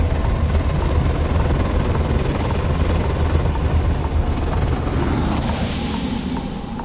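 Spaceship lifting off in the video game Starfield: a continuous loud, dense rumbling roar with a turbine-like whine, steady throughout and without speech.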